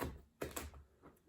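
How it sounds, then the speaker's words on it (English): A knife slices a head of cauliflower in half on a board, giving a few short, crisp crunching cuts close up, with quiet pauses between the strokes. "What we're going to do first is we're going to cut the cauliflower in half."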